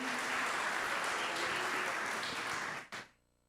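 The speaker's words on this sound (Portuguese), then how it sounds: "Aplauda o Senhor bem forte" Church congregation clapping loudly and steadily as a broad wash of applause, with faint voices mixed in, then cut off abruptly near the end.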